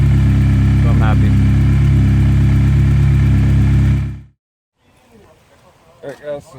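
A BMW E30 with an M42 four-cylinder engine idles steadily and loudly after starting, a constant low drone lasting about four seconds before it cuts off, followed by faint handling noises and brief clatter.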